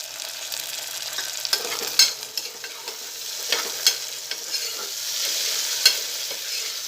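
Onions sautéing in a pan with tomato added for a pea and potato curry, a steady close sizzle broken by repeated scraping and clacking stirs of a spoon against the pan, with no talking.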